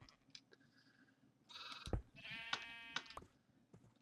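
A sheep in the video game Minecraft bleats faintly, with two wavering bleats over scattered clicks and quiet game sounds.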